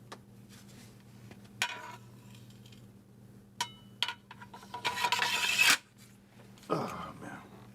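A knife blade scraped across a worn sharpening stone in a few short rasping strokes, with a longer, louder grinding pass near the middle and quieter gaps of room noise between.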